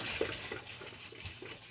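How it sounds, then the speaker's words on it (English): Coolant water drains from the radiator of an OBS Ford F-150 pickup in a faint, steady trickle, with soft splashing and a few small gurgles. "Yes, I'm draining the radiator, but it's just pure water."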